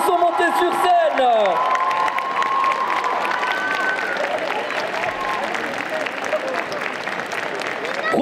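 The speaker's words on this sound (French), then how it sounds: "Et cette fois-ci, on peut les applaudir. Faites du bruit pour tous nos cosplayers qui sont montés sur scène." A festival crowd applauding and cheering cosplayers on stage at a manga convention in Saint-Étienne, loud continuous clapping with whoops, opening under an amplified voice and music.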